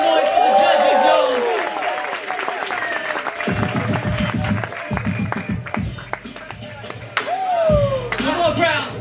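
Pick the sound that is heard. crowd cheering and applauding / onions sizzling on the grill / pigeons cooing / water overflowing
crowd cheering and applauding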